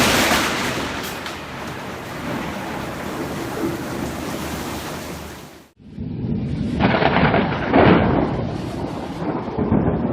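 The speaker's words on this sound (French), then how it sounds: "il a filmé un éclair spectaculaire" A heavy rumbling roar with rain noise, cut by a sudden near-silent gap, then a fresh loud crack and rumble of thunder from a lightning strike that rolls on.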